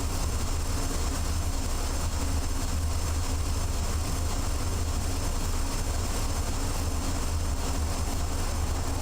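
A cargo locomotive in the Train Driver 2 game gives a steady, dense low engine rumble and rolling rail noise that holds evenly throughout, with no talking.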